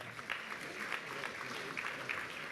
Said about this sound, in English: Let's give one more round of applause to Stephen Traynor.